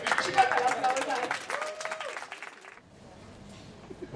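An audience at an evening event bursts into a short round of applause, mixed with a speaking voice in the first half, then drops to quiet room tone.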